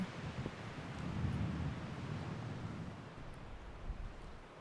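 Strong wind buffeting the microphone outdoors at a disc golf tournament, a steady low roar that swells and eases without pause.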